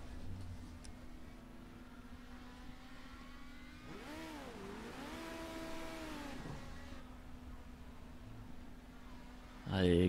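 A race car engine in Project Cars revs up and pulls hard through its gears in a rising, sweeping whine, with a steady drone beneath it and a loud burst right at the end.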